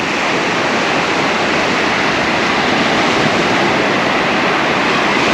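Steady roar of surf washing onto Hua Hin beach, broad and continuous, with waves breaking close by and no voices.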